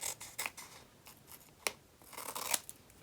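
Scissors snip through adhesive sheet and cardstock in a few quick, close cuts at an uneven pace, with faint paper rustling between the snips while a card is being trimmed.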